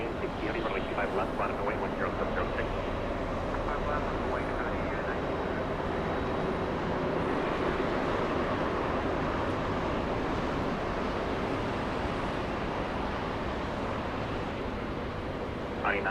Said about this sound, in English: Queen of the Skies exiting the runway